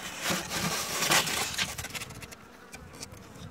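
Honeybees buzzing during a winter hive inspection, a dense steady drone of many insects close by, with faint wooden knocks from the hive.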